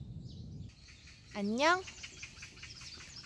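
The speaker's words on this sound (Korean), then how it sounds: "예쁜 새소리도 잘 들리고요." Birds chirp and sing in a city park on a summer morning in Jeju, with a clear rising call standing out briefly amid background ambience and a short spoken greeting.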